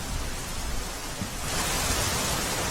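Rain falls steadily under cloudy skies at Idar in Sabarkantha, Gujarat, a soft, constant hiss that grows a little louder partway through, with no voices.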